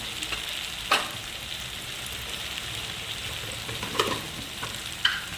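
Red chilli powder and other spices hit hot oil for a dal tadka, producing a steady, close sizzle with a few sharp clicks of stirring against the pan.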